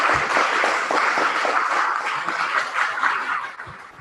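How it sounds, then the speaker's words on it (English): Applause from an audience at a Toastmasters club meeting, dense steady clapping filling the room for about four seconds before thinning slightly toward the end. "Give him a round of applause"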